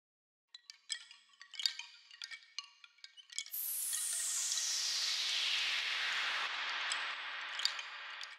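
A bamboo-style sound effect preset from the Baby Audio Transit plugin starts as a cluster of light, woody clinks and taps. It then swells into a bright, sustained whooshing wash that fades slowly, with a few more taps on top.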